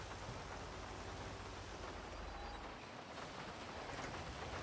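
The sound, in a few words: rain falling in the video game GTA 5 Online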